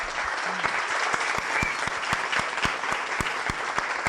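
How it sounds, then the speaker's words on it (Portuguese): Audience applause at a talk, a sustained wash of clapping from a crowd with distinct, rhythmic individual claps close by, moderately loud throughout. "Vamos aplaudir?"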